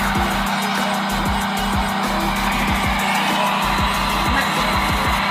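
A loud, steady whirring blow dryer roars continuously while drying a Persian cat's fur, with a constant hum and brief rhythmic thumps underneath.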